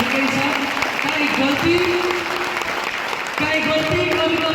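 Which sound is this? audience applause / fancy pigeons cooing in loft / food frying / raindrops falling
audience applause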